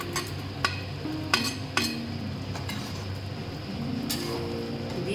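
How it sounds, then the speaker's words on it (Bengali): Fried eggs being added to a simmering egg and pea masala and stirred in, with a few sharp metal clinks of a spoon against the pan over a soft continuous bubbling. "এবারে আমি ডিমগুলো দিয়ে দিচ্ছি"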